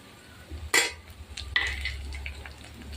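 Carrots tossed in with softened onions and curry leaves stir-frying for egg fried rice, a low sizzle with two sharp clinks of a spatula against the pan nearby.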